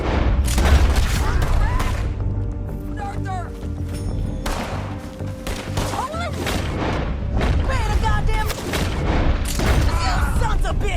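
Gunfire in the video game Red Dead Redemption 2, with a rapid series of loud, sharp shots and booms in quick bursts, mixed with shouting voices and character dialogue.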